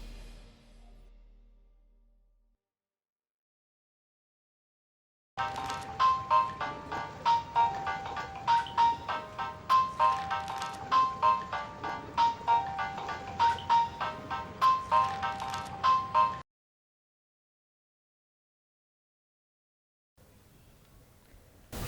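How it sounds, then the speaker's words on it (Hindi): A phone rings unanswered in a Pakistani drama scene, a steady repeating electronic ringtone melody playing loud and alone for about eleven seconds before cutting off into silence. "किसका फोन है भाई?"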